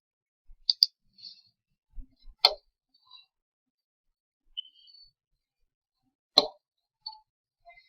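Computer mouse clicks while formatting a table in a spreadsheet, a few sparse, sharp, close clicks separated by near silence, with faint small ticks in between.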